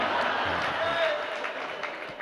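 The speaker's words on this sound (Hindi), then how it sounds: "ये ताली बजाने का भी अर्थ मैं जानता हूँ" An audience claps through a sermon by Acharya Samay Sagar Ji Maharaj, a steady, dense patter of applause held evenly for a couple of seconds.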